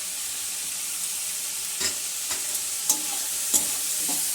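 Garlic, ginger and chili frying in a pan after a splash of vinegar, with a steady bright sizzle throughout and a few scraping stirs of a utensil against the pan.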